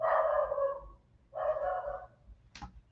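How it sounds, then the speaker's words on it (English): A dog barks in two long, loud bursts close by, followed by a short sharp yelp, with no talking. "My dog is going nuts."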